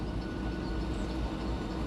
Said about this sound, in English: Looks like it's a coal train going by.